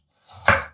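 A single knife stroke slices thinly through a carrot on a cutting board in a home kitchen, making a short, close, crisp chop with a soft swish just before the blade strikes.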